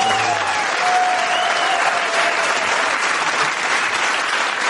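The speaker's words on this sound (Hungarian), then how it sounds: "én főleg a poénokra vártam volna a tapsot" A Hungarian cabaret club audience applauds a stand-up comedian, a loud, dense, steady wash of clapping that fills the room without a break from start to finish.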